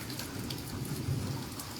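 Rain falls steadily in the Reasi mountains, a dense, continuous hiss of drops on surfaces with a low rumble underneath, close and even with no voices.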